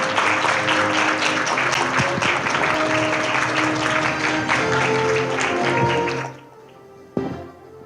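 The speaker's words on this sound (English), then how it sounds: "Please give Secretary General a warm round of applause" A large audience applauds at the closing ceremony of an open parliament forum at Taiwan's Legislative Yuan: dense, steady clapping fills the room for about six seconds, then stops abruptly, followed by near silence and one soft thump.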